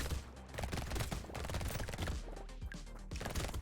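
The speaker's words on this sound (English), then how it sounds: "That's like a flurry of bullets." Rapid, dense gunfire from the Brotato video game, a continuous flurry of overlapping shots that stays loud and unbroken throughout, with no talking.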